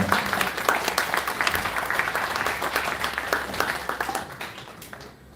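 Audience applause at Yeongdong High School's founding anniversary ceremony, greeting a ten-million-won scholarship presentation by an alumni scholarship society. A steady wash of many clapping hands that holds for several seconds and then fades near the end.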